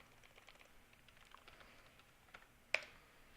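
Soft, quiet typing patters on a computer keyboard at a steady pace, ending in one sharper key click.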